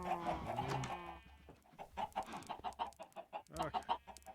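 Video game chickens cluck faintly but continuously, with a dense flurry at the start, a brief lull and then a steady run of short clucks.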